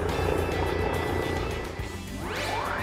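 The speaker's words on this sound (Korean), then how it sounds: "헬기가 이착륙했을 때 소음은 얼마나 올라갈까?" A medical emergency doctor helicopter takes off or lands, producing a loud, steady roar of rotor and engine noise. The noise stays close and continuous, rising in pitch near the end.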